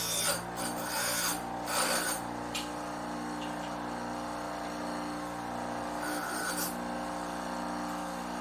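A metal file rasping a weld bead off vice grips, close and loud, in rapid back-and-forth strokes that come in bursts with a steady mechanical hum behind them.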